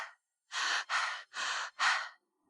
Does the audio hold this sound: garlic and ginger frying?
no